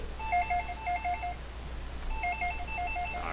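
An Asterisk-connected phone rings after extension 1001 is dialed, giving two clear bursts of a warbling electronic ring tone separated by a short pause, close to the microphone over a quiet background hum.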